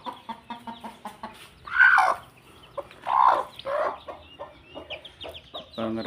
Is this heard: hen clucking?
yes